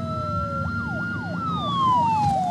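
A police siren wails in the video game Uncharted 4, its rising and falling tone sweeping repeatedly over a steady background rumble, loud and close, alone without talk.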